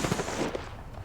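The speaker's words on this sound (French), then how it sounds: "Je lui ai mis un fusil à pompe." Gunfire from a pump-action shotgun in the video game Apex Legends, a dense, loud wash of shots and battle noise filling a brief moment of combat.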